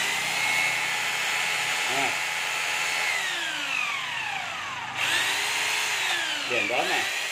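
A Makita HR2450 rotary hammer runs in reverse with a loud, steady whine, its pitch sliding up and down as the trigger is eased and squeezed, while someone talks briefly over it.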